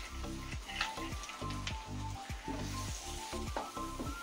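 Jackfruit halwa cooking with ghee and roasted cashews is stirred in a pan, a steady sizzle under rhythmic scraping strokes of the spoon repeating every half second or so, close and continuous.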